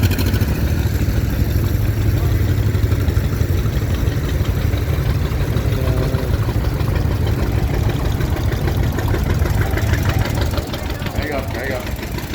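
A 1957 John Deere 520 tractor runs at a tractor parade with its engine idling in a steady, loud, low chugging rhythm that persists throughout the whole clip.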